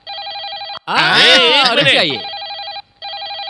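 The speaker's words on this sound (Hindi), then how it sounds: "मेरा फोन मेरे लिए नहीं तो किसके लिए बजेगा?" A telephone rings in a Hindi-dubbed comedy action film scene, sounding as repeated electronic ring bursts at the start and end, with a voice talking loudly over the middle.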